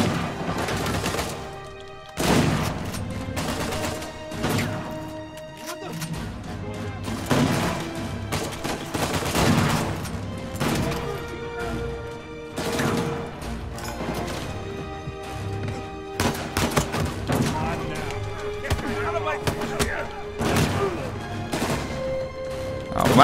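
Shotgun blasts and other gunfire from a gunfight in Uncharted 4, with repeated sharp, loud shots in an irregular rhythm over a steady background of battle noise.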